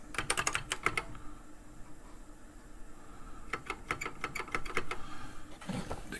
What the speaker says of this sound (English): I'm typing around the camera mount here